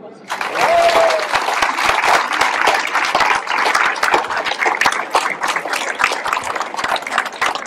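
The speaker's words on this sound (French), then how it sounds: "je pense qu'on peut les applaudir bien fort" Loud, sustained applause from a wedding crowd greeting newlyweds at a Breton wedding celebration, dense clapping continuing steadily throughout with a brief whistle near the start.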